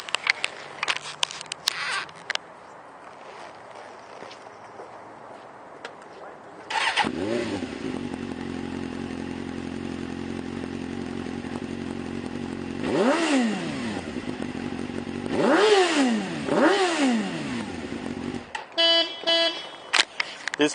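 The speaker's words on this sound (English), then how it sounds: "Let me fire it up for you so you can see how beautiful it sounds." A 2004 Suzuki GSX-R750 supersport motorcycle, about 15,500 miles, fires up after a few seconds of talk and settles into a steady idle, then takes several sharp throttle blips that rise and fall before it cuts off, close and loud.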